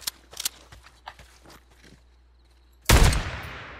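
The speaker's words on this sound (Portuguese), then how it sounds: "eu conheço ela pelo barulho do tiro" A single loud shotgun blast from the video game Days Gone booms close and then decays, following a few soft footsteps and light shuffling.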